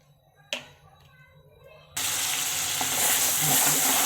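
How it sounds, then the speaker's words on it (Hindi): Onions dropped into 2–3 spoons of hot oil while cooking liver (kaleji). A few faint clinks give way to a sudden loud, steady sizzle that continues to the end. "2 मिनट रखने के बाद हम सबसे पहले इसमें प्याज डालेंगे।"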